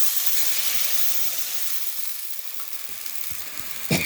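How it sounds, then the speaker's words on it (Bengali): Browned onions in hot oil burst into a loud, dense hiss as water hits the pan, the sizzle roaring steadily and easing slightly before a brief clunk near the end; no one speaks. "এখন আমি পানি দিয়ে নিচ্ছি"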